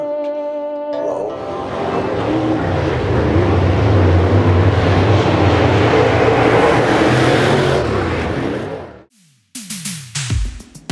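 A BMW M54 inline-six from a Z coupe, swapped into a Ford Mustang, cranks and fires for its first start, settling into a loud, steady idle for several seconds before cutting off abruptly, followed by a few brief clanks.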